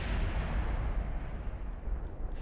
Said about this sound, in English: don't mind that explosion